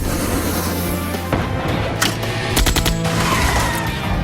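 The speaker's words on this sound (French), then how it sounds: "Est-ce qu'une mitrailleuse montée sur un capot et des roues armées de pointes, ça fonctionne?" A hood-mounted machine gun on a spy car rattles off loud bursts of rapid gunfire, with sharp cracks standing out over a constant roaring background and no voices.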